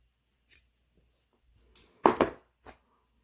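Scissors snip yarn off a crocheted minion hat in a few short, crisp cuts, including a quick double snip, close and clear against near silence.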